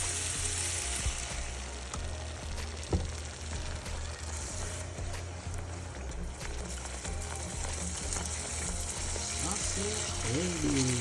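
Cream heats in a pan for homemade sausage gravy, giving a steady, moderately close sizzle with soft bubbling and occasional scrapes of a utensil throughout.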